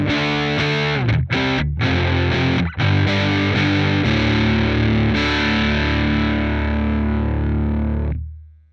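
Electric guitar recorded through a standard instrument-level direct input into Logic's Amp Designer, heavily distorted chords ringing loud and sustained, with brief gaps between strums before a final chord fades out.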